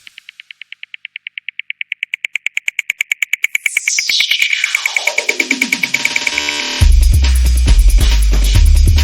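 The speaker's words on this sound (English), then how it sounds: "I listen to dubstep, it meant I listen to music that sounds like this." Dubstep excerpt opening on a pulsing high synth tone that quickens, then a descending sweep into a dense, loud drop with heavy sub-bass, no voices.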